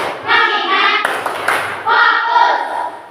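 A class of fifth-grade pupils at an Islamic primary school does a focus clap. Children's voices chant loudly, and a couple of sharp, close hand claps stand out in the middle.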